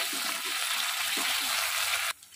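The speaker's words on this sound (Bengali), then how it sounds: "মাছটা দিয়ে আমি হাই ফ্লেমে একটু নাড়বো, যাতে মাছের আঁচড়ে গন্ধটা চলে যায়।" A piece of fish sizzles loudly in hot oil in a pan over high flame while being stirred for potol bharta, a steady dense frying hiss with soft scraping, cutting off abruptly near the end.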